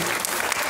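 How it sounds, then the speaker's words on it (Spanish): Applause from an audience at a school gender-awareness event, a dense steady burst of clapping filling the short moment at even loudness. "un fuerte aplauso a ustedes"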